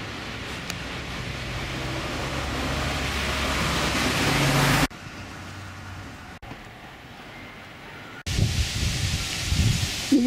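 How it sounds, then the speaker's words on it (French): Strong autumn gusts rush through foliage in Pau, France, a dense steady rustle of leaves that drops away briefly before surging back loud. "il y a beaucoup de vent"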